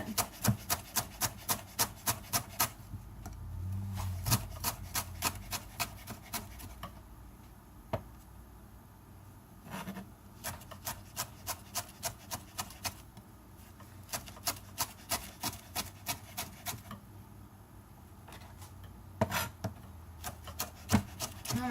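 Food being coarsely chopped with a knife on a cutting board in a home kitchen, heard as quick, crisp, evenly spaced strikes in several bursts with short pauses between them. No one speaks.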